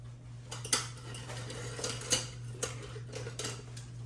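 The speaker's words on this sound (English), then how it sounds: "I'm going to place them on the pan" Chicken pieces set onto a buttered baking pan, soft clinks and scrapes of metal against metal in an irregular series over a low steady hum, close and quiet.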